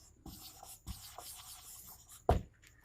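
Marker or chalk strokes writing a Hindi word on a board, a few soft scratchy rubs and taps spread over about three seconds, close and quiet, with no talk.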